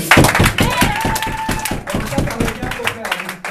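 A small indoor group claps for the prize winners at a Bible quiz prize-giving, the irregular handclaps overlapping with talk and then thinning out.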